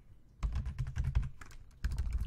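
A name being typed on a computer keyboard: rapid bursts of close key clicks, a short pause, then another quick flurry of keystrokes.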